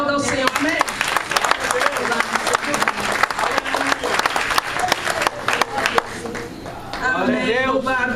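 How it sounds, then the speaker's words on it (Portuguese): A church congregation applauds during worship, a loud, sustained burst of many hands clapping, with voices speaking and calling out over it toward the end. "Deus, dê um aplauso ao Senhor, amém?"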